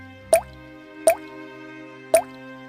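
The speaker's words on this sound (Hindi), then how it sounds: "छत से पानी टपकता था" Water drips from a leaking roof of an old mud house, three clear, evenly spaced plops about three quarters of a second apart, close and crisp over a faint steady hum.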